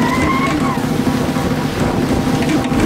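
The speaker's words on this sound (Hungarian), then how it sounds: "40 kilométeres szélben préselünk." Strong wind of about 40 km/h roars steadily across the microphone aboard a sailboat beating upwind in French Polynesia, with water rushing along the hull and a brief whistling tone at the start.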